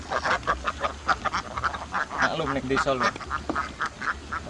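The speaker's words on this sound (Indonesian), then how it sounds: "Ini pasukan bebek." A flock of ducks quacks repeatedly in a field of chili plants, a busy, rhythmic chorus of nasal calls nearby with a person speaking briefly over them.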